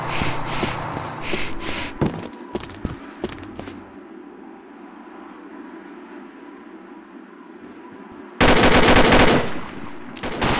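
Gunfire in the mobile shooter Legacy of War, with rapid automatic bursts up front and a loud dense volley near the end, separated by a quieter stretch of game ambience.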